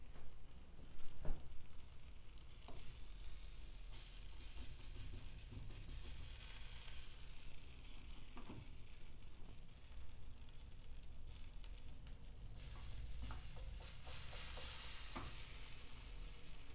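Homemade focaccia bread frying in a pan over the flame and forming a crust, giving a steady, quiet sizzle and crackle with occasional stirring scrapes, no talking.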